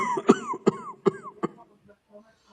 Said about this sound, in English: I had a bout of cough,